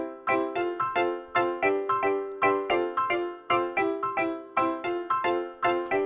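Afropop highlife instrumental beat mixed dead centre with no panning, bright plucked guitar-like melodic stabs bouncing in a busy, steady rhythm, dense and full, with no voices.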